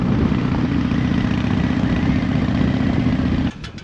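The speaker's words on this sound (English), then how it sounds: "A Harley and a sport bike down a dirt road" A Harley and a sport bike ride down a dirt road, a loud, steady engine drone that holds evenly for several seconds before dropping off abruptly near the end.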